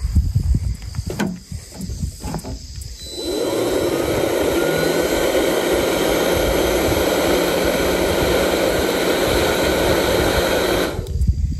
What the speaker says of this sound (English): If you've got a smoker that is cold getting lit and you got to pump it a bunch to get it good and hot, and you have a little blower,